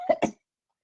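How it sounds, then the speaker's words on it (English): Two quick, harsh coughs come close together from a person with interstitial lung disease, loud and near, followed by silence. "I have a cough all the time, but it's not catching."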